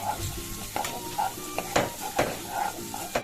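Chopped onions frying in oil in a pan for dal tadka, a steady close sizzle broken by repeated loud scrapes and clinks of a spoon stirring against the metal.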